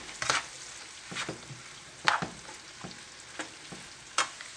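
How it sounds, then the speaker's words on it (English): Eggplant parmesan ingredients frying in a pan until lightly browned: a quiet, steady sizzle broken by a few sharp clinks of stirring at irregular intervals. "you're just going to fry those until they reduce down and get a little lightly brown."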